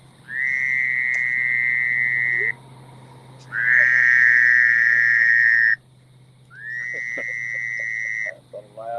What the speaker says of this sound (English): That's a loud frog.